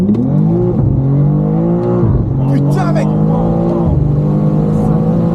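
A tuned BMW M2 with €40,000 of performance work accelerates hard. The loud, close engine note climbs steeply, drops sharply at two gear changes and climbs again. A voice briefly exclaims over it.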